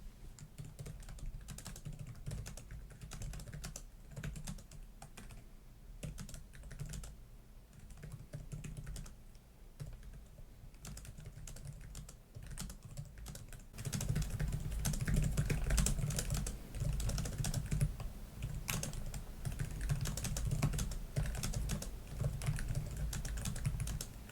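Typing on the keyboard of a 2025 ASUS Zephyrus G16 laptop, a steady close run of quick, snappy key clicks that grows louder and denser in the second half, with no talking.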